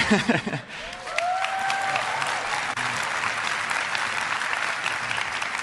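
Loud applause from a tech conference crowd rolls on continuously after a brief voice at the start, with a faint whistle-like tone riding over the clapping.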